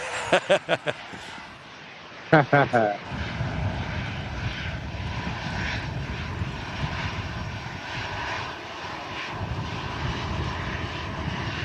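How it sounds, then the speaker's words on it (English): An Air Portugal airliner arriving from Lisbon at Manchester Airport on a gusty day, its engines a steady broadband roar throughout, opening with a few brief sharp bursts before the sustained rumble. "that's Air Portugal arriving in from Lisbon"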